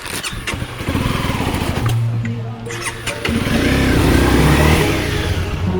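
A stuck motorcycle's engine revs loudly and close by, throttle rising and falling in uneven bursts, with a steady low rumble between revs.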